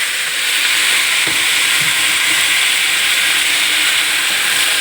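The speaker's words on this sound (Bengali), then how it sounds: "এখানে আমার মশলা ভাজা হয়ে গেছে, এবার আমি এগুলো সব ঢেলে দেবো।" Washed jute leaves poured into a pan of fried spices set off a loud, steady sizzle and hiss that continues without a break.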